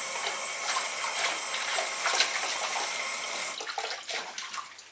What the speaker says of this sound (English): I'm going to give it a little washing too